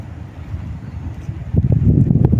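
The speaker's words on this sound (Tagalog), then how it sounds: "Ang lakas po ng hangin." Steady low wind rumble buffeting the microphone, growing louder and gustier in the last second, with no voices.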